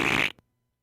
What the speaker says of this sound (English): That sounds like a wet fart.